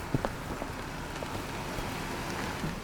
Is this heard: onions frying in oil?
no